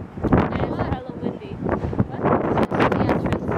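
Gusty wind buffets the microphone in strong, uneven bursts while people talk nearby at the entrance to the New York-New York casino in Las Vegas.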